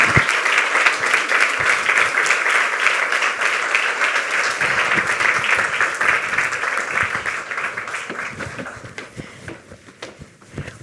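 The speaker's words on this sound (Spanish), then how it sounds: "Un fuerte aplauso para recibir a Lorenzo Silva" Loud, sustained applause from a seated audience welcoming author Lorenzo Silva at a book presentation, dense steady clapping that thins and fades toward the end.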